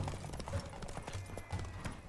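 Hooves of the horse Roach beat in a fast, steady clip-clop rhythm in the video game The Witcher 3, heard up close under a continuous game background with no clear talk.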